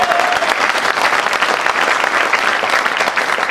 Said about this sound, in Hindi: जोरदार ताली बंतूर आपसी के लिए जरूर होनी चाहिए।